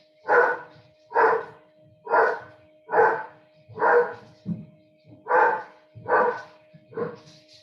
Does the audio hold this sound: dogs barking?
yes